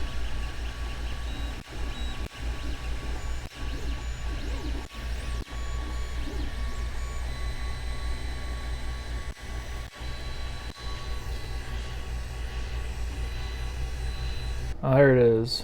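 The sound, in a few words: 3D printer printing a test part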